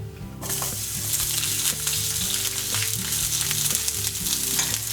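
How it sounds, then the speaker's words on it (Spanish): Spring onion sautéing in olive oil in a frying pan, starting abruptly with a steady, close crackling sizzle that holds throughout, with faint stirring bumps and a low background hum. "ponemos otro poquito de aceite en la sartén y vamos a pochar la cebolleta"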